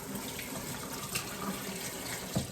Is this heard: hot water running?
yes